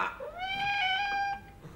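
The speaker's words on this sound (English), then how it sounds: "what a windy meow" A cat gives a single drawn-out meow that rises and then holds before trailing off, close and fairly quiet, alone without talk.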